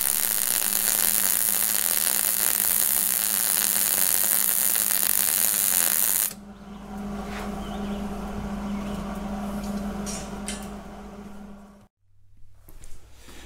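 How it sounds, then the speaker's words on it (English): Arc welding of a stiffener rod on a Caterpillar D2 crawler tractor chassis gives a steady, loud crackling hiss that shifts in tone midway, then cuts out near the end, followed by a faint low hum. "Let's weld."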